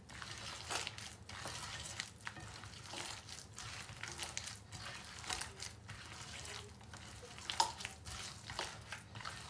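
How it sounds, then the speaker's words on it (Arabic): Eggs, butter and sugar being mixed slowly in a bowl for an old-style sweet, soft rhythmic stirring and scraping strokes repeating every second or so, close and quiet with no talking. "غنبقاو نخلطو فيها بشويه بشويه حتى تخلط معنا البيض مع الزبده مع السكر"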